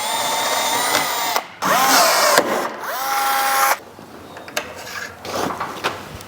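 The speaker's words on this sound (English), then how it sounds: "the tie strap for the awning, which we'll just drill into the tent" A power drill whines loudly in several bursts, spinning up and biting into a rooftop tent on an Ineos Grenadier, with short pauses and scattered clunks between runs.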